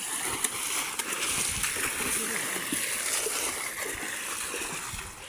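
Continuous splashing and sloshing of water with scattered sharp splats, nearby and fairly loud, with voices talking over it.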